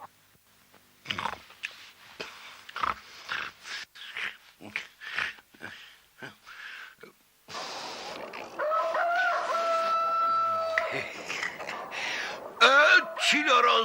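Short bursts of voice and clucking noises, then a loud nearby rooster crows in a long drawn-out call, with more calls at the end.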